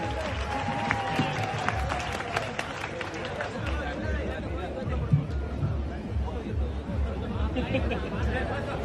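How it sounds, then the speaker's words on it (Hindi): A crowd of young men at a rally in Mumbai applauds for Arvind Singh Bhati, clapping and cheering mixed with chatter and loud hubbub across the whole clip. "जोरदार मेरे युवा भाइयों एक बार तालियां फिर से बजा दीजिए अरविंद सिंह जी के लिए।"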